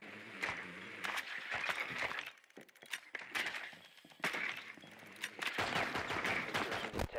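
Rapid automatic gunfire from an AK-12 and other weapons in Rainbow Six Siege, with loud bursts of shots and short pauses between them, set against a dense background of game sound.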